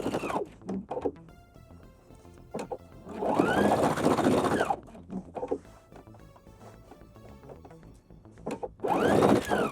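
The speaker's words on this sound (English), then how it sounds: "Make sure I'm back stitching to secure it" A sewing machine sews a seam taking in a pair of pants, with short stop-start bursts and two longer runs of stitching including backstitching, plus mechanical clicks and thunks between them.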